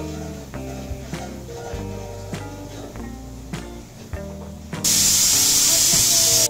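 Paneer curry of tomato puree with chili powder and salt cooking in a pan: after a stretch of background music, a loud, steady hiss of sizzling cuts in and fills the final couple of seconds.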